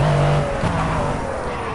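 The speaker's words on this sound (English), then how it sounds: "This car sounds good" A race car engine in the Project Cars racing game drones steadily at high revs, with a brief gear shift and faint tire noise, loud and continuous throughout.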